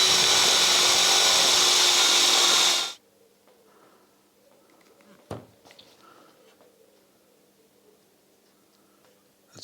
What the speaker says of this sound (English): So I'm going to drill the holes.